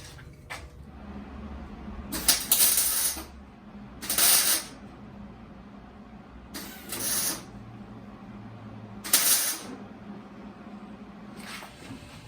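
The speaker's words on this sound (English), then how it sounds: "fire up the welder and weld this thing in place" A welder lays short bursts on the inner sill of a 1965 MG Midget, with about five crackling, hissing pulses of a second or so each, separated by pauses over a low background hum.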